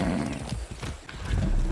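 A horse in Far Cry 6 clops its hooves in quick, uneven beats, close and fairly loud against a busy game background, with a short whinny-like snort mixed in.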